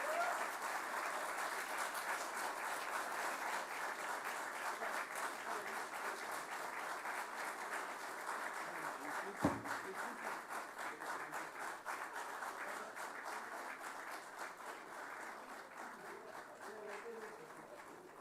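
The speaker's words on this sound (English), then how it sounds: "Let's give a huge round of applause." Sustained audience applause fills the hall at the launch of Sensex futures and options contracts on the India INX exchange, steady and dense throughout, with a brief thump near the middle.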